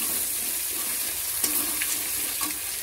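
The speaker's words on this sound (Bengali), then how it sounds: "মশলাটা পেস্ট করে নিয়ে দেখো কষাতে বসিয়েছি" Spice paste frying in a pan for a cauliflower and potato curry, a steady close sizzle with occasional stirring scrapes and taps.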